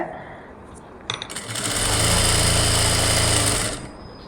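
A sewing machine stitches along an embroidered blouse border, starting after a few clicks and running as a brief close mechanical whir for about two seconds before stopping.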